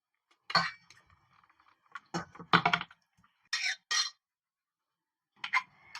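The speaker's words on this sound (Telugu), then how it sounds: "ఇది దించి వేరే గిన్నెలకు వేసుకుందాం" Clinks and scrapes of metal utensils against pots as mutton paya curry is moved between vessels, in several short bursts separated by quiet pauses.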